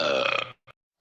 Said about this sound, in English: Don't you think she's burping?